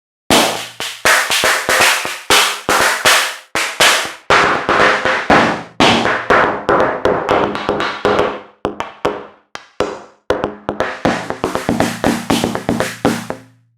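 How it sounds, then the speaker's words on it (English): A Chromaphone 2 electroacoustic kit preset, with a noise source triggering resonators, plays a fast, busy rhythmic pattern of sharp, snappy percussive hits. Some hits are dense, some spaced apart, all loud and close, with no talking. "Here I'll play you a part with this sound that is influenced by the noise source triggering the resonators"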